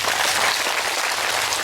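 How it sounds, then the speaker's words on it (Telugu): A short burst of thick, continuous clapping from a gathered audience at a meditation talk honouring the Buddha, his dharma and sangha, close and even with no voices over it. "బుద్ధ తత్వానికి, బుద్ధ ధర్మానికి, బుద్ధ సంఘానికి చప్పట్లు కొడదామని"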